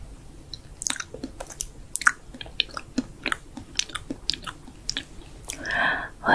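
Close, wet chewing and biting sounds come in irregular crunchy bursts with soft squishy mouth noises, heard alone during a Japanese role play of eating someone's face, starting with the nose.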